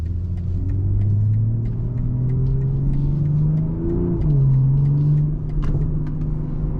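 A 2023 BMW M340i accelerating from inside the cabin, a steady low engine drone rising gradually in pitch, dipping briefly once and climbing again, with a faint clicking overhead.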